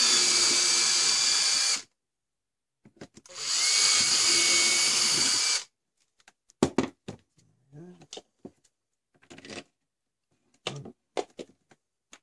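A power drill boring a hole for a bike trailer mount: two loud whining bursts of a couple of seconds each, then scattered clunks and handling knocks as parts are lined up.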